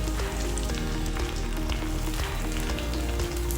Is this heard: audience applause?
no